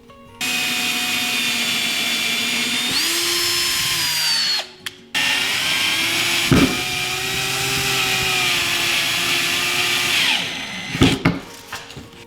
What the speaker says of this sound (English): We will go ahead and get this hole pre-drilled and then place in the screw to hold it in place.